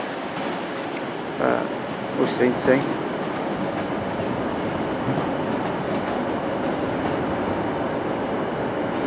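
A Pendolino train idling and rumbling at Glasgow Central station, a steady broad mechanical roar filling the platform with a few brief clanks, while people talk briefly over it.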